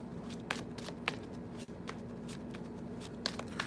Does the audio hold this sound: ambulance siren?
no